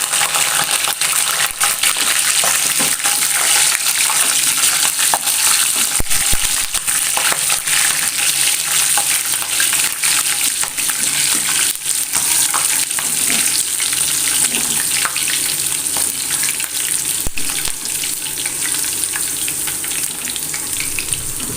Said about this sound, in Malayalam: കുറച്ച് മൂന്നാല് പച്ചമുളക് കൂടി ഒന്ന് വറുത്തെടുക്കാം